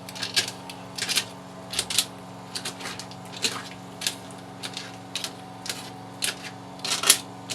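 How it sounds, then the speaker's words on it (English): A knife cutting through ekpang nkukwo, a cocoyam and leaf dish, gives quiet, irregularly spaced taps and soft scraping strokes, about a dozen over several seconds, close by with a low steady hum underneath. "I'll use my knife and cut it like this."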